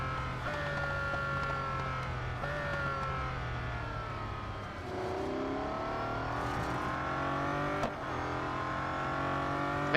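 Bugatti Bolide hypercar engine in the Real Racing 3 racing game, a steady high-pitched whine with rising and falling harmonic tones, continuous and loud for the whole stretch with a brief dip midway.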